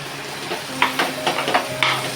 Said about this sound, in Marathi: बघा चांगला मी परतून घेते